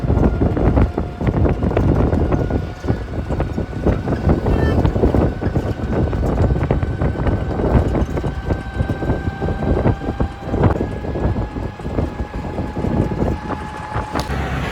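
Steady engine drone and road rumble from inside a moving auto-rickshaw, with broadband wind buffeting against the microphone throughout and a faint tonal whine above, continuous and fairly loud with no clear talk.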